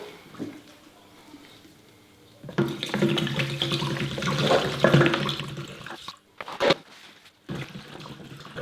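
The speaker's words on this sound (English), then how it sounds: "we're going to fill it back up with methylated spirits" Methylated spirits is poured into a car intercooler, making a steady, close gurgling splash for several seconds before it breaks into a few shorter glugs and stops.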